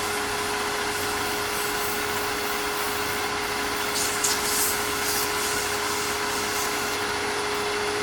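Steady, even scuffing of 400 grit automotive sandpaper worked over car paint, close and continuous for several seconds, with a faint hum running underneath.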